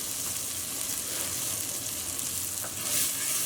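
Fennel seeds, tomato paste and canned diced tomatoes are stirred together in a hot pan while cooking Spanish mussels. A continuous close sizzle runs throughout with soft stirring scrapes and no talk.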